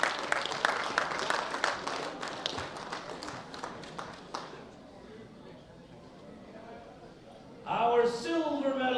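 An audience at a junior men's world bench press championship applauds the bronze medalist, dense clapping for about four seconds that fades into room quiet before an announcer's voice returns.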